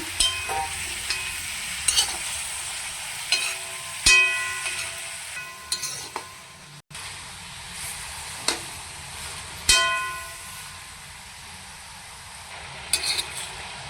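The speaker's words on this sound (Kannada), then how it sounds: "ಇವು ತರಕಾರಿ ಎಲ್ಲ ಸ್ವಲ್ಪ ಎಣ್ಣೆ ಫ್ರೈ ಆಗಸ್ರಿ" Vegetables frying in oil in a pan for Maggi masala, a soft steady sizzle punctuated by repeated sharp clinks and scrapes of a spoon stirring against the pan.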